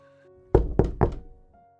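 Three sharp, evenly spaced knocks on an office door, close and clear, in a quiet room with no voices.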